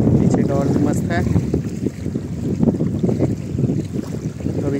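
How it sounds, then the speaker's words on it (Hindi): Strong wind buffets the microphone at a Ganga ghat, a loud, low, rumbling roar that gusts unevenly throughout, with someone talking faintly underneath. "वैसे काफ़ी तेज हवा चल रहा है, तो आवाज़ ठीक से नहीं आ पा रहा होगा आपको।"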